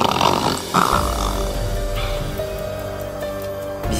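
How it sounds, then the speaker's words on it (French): Deep, rumbling snores from someone in a room, heavy throaty breaths rising and falling over a few seconds, fairly close and loud. "Mais il y a quelqu'un qui ronfle dans la pièce."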